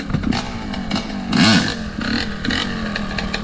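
A motorcycle engine is blipped with the throttle to hold the bike up during a clutch and throttle wheelie practice, short uneven revs rising and falling close by with some clatter.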